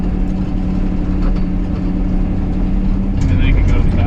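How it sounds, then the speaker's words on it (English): A prerunner truck drones steadily while driving off-road across desert terrain, a loud, low engine hum with rattles and faint talk underneath. "I don't know if this GoPro can hear us over the drone of the truck"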